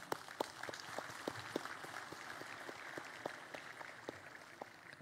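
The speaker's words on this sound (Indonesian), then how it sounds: "Tepuk tangan." Audience applause following a speech about a promotion to police general, a loose scattering of distinct claps in an uneven rhythm, moderately far and fairly quiet, with no talk over it.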